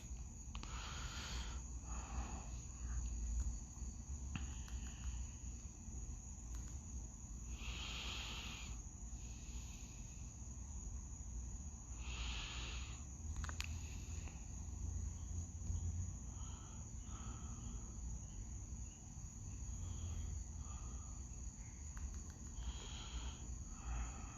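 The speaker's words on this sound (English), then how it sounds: "I hear crickets." Faint, steady chirping of crickets carries through a quiet night, with a low rumble and a few soft rustles.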